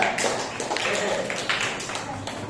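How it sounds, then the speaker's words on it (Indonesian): A classroom of students claps for group 3, a dense, steady patter of many hands lasting a couple of seconds, fairly close and without talk over it. "Kasih tepuk tangan dan kelompok 3"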